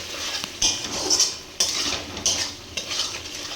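Spice paste fries with onion in a pan while a spoon stirs and scrapes steadily, bringing soft sizzling and repeated metal scrapes with a few sharper knocks, close up and with no talk.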